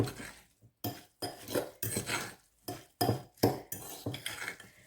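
Grated carrot coleslaw is mixed in a bowl with a utensil, giving a series of irregular scraping, clinking strokes with short silent gaps, close and fairly loud.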